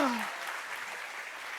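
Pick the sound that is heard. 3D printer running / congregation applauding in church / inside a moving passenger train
congregation applauding in church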